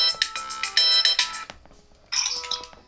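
A phone ringtone from an incoming call chimes loudly in a bright repeating melody, pausing briefly before starting again, with no talking.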